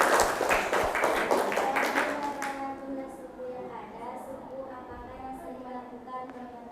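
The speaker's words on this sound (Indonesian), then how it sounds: "Tepuk tangan untuk siapa itu?" Classroom applause from pupils, a burst of many small hands clapping that fades after a couple of seconds, followed by a voice talking over quieter room sound.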